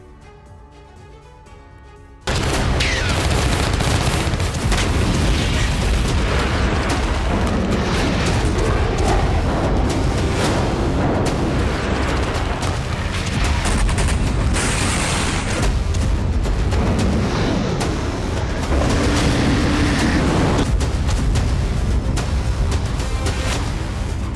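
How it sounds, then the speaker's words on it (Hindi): Explosions and gunfire rumble in the Ukraine war, a dense, continuous roar of booming blasts that breaks in suddenly after a quieter start and stays loud throughout. "सन्नाटे के बीच रह रहकर गूंज रहे हैं धमाके।"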